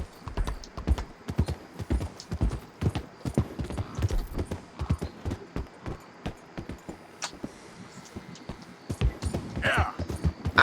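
Horse hooves clip-clop steadily in Red Dead Redemption 2, a dense run of sharp, close, fairly loud hoofbeats over a low game ambience, with a brief whinny-like sound near the end.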